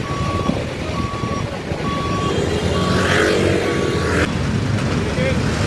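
An official campaign vehicle gives repeated reversing beeps in an evenly spaced series over steady engine rumble and outdoor crowd noise, with a vehicle passing by partway through.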